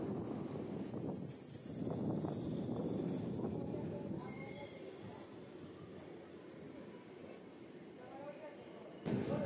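A local train on the Howrah-Bandel line pulls out of Liluah station, a steady low rumble of wheels and carriages with faint squeals, heard from inside under ongoing talk.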